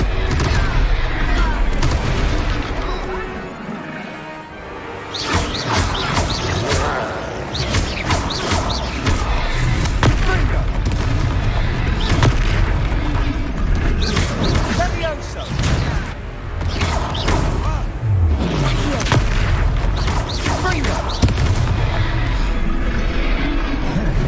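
Fire-spell explosions from Hogwarts Legacy combat, booming blasts and crashing impacts that repeat over a sustained fight, mixed with shouted voices and game music throughout.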